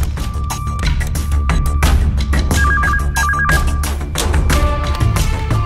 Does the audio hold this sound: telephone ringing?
yes